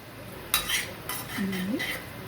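Chana dal frying in a pan, with a faint sizzle under a few metallic spoon scrapes and clinks, brief and close.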